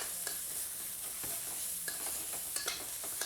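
Tofu, bamboo shoots and green onion are stir-fried in a wok, giving a continuous bright sizzle punctuated by a few sharp scrapes of the spatula, heard close with no voices.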